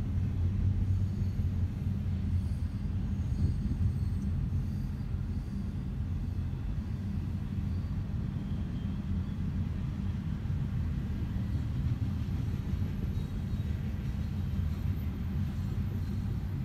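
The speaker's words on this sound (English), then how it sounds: "I got the choo-choo train." A Union Pacific stack freight train rolls past near Dallas, Texas, with a continuous low rumble that holds steady throughout.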